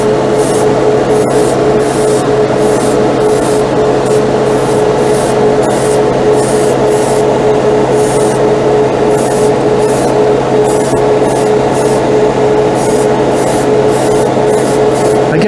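An airbrush spraying acrylic primer straight from the bottle, a loud steady hiss of compressed air and paint with a constant compressor hum beneath, unbroken throughout with no speech.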